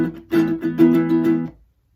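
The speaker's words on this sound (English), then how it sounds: "Starting on that D5 prime chord, playing strumming pattern 5 once" An acoustic guitar strums a D5 prime chord in a short pattern of about five quick strokes, close and clear, before the sound is cut off. There is no talking.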